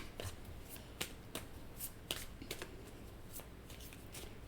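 Tarot cards are cut and shuffled by hand in a quiet room, giving soft papery riffles and several crisp slaps spaced about half a second apart, close and faint.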